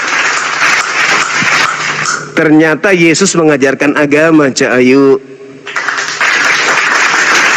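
Audience applause breaks out at a religious lecture. Broad clapping comes in two bursts, one before and one after a man's amplified speech, and the applause partly overlaps his voice.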